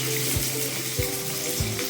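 Cumin, cardamom, cinnamon and bay leaf sizzle in hot oil with a steady close hiss, broken by a few soft low knocks, and no one speaking.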